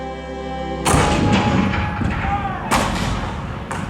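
Civil War cannon fire at Fort Sumter, 1861, in a Disneyland show: heavy booms hit after a sustained musical tone, followed by more rumbling blasts, loud and reverberant, with narration mixed in.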